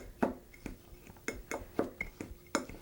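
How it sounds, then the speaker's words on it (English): Fork blending oil and pecans in a bowl for a blueberry French toast topping, with a string of soft, irregular clinks and scrapes against the bowl, close and quiet, with no talking. "you just want to take a fork and kind of blend this together"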